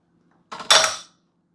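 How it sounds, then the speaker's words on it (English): A spoon clinks and scrapes against the inside of a glass while stirring black pepper into a smoothie: a soft tap followed by a brighter ringing swirl, close and clear, lasting about half a second before it stops. "And then I am going to stir it together."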